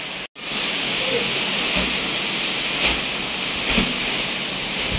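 Howling storm wind during a cyclone near a seashore, a loud continuous roaring rush with a few gusty swells, steady throughout after a brief dropout at the start.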